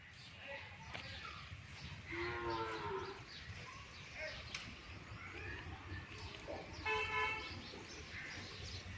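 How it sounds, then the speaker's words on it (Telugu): Calves at the ISKCON cow shelter in Anantapuramu moo repeatedly, several drawn-out calls at moderate distance over a busy outdoor background, with a faint horn toot and occasional voices nearby. "మీరు చూస్తున్నారు చిన్న దూడలు."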